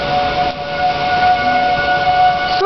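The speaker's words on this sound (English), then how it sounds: "a tornado siren going off right now." A tornado siren wails continuously in the distance during a rainy storm in Manhattan, a steady sustained tone that swells slightly, with no one speaking.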